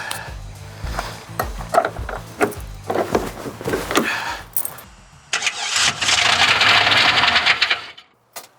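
A starter motor cranks a swapped LS V8 engine in repeated grinding bursts, not disengaging from the flex plate, followed by a loud, rough whirring roar that cuts off abruptly near the end.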